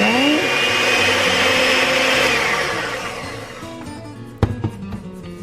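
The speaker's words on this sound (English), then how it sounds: "with either a stand mixer or a hand blender or just by hand, you wanna get those nice and mixed together until you get a nice creamy texture" An electric mixer whirs loudly while blending butter and brown sugar into a creamy mixture for banana bread, a steady motor drone that winds down and stops, followed by a few clattering knocks.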